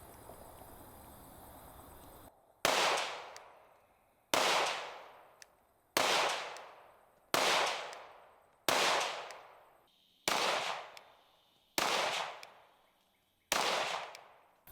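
An FN Five-seveN Mk3 pistol fires at a 25-yard range, making eight loud, sharp cracks, each with a short decaying echo, in a slow, evenly spaced rhythm after a brief quiet lead-in.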